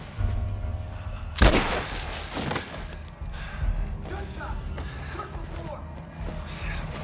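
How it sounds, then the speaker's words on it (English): A single loud, sharp gunshot goes off in The Last of Us Part I inside the Firefly lab, followed by echoing mechanical clanks and rumble, with voices murmuring underneath. "Gunshot!"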